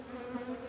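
Honeybees in an opened beehive during a January inspection, a close, steady insect buzz with a low droning hum that holds through the brief moment.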